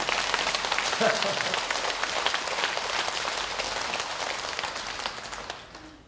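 Worshippers at a dharma service in Jogyesa temple respond with a steady, rain-like patter of applause from many hands, holding level and then fading away at the very end.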